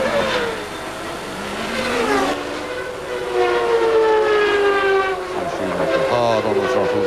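A McLaren-Ford Formula 1 car at the 1993 Canadian Grand Prix, its engine screaming at high revs and rising in pitch through the gears, loud and close, with short dips between the pulls.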